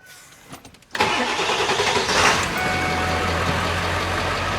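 A cab-and-chassis truck engine cranks for about a second with a rapid starter chatter, then catches and roars up before settling into a steady, loud idle.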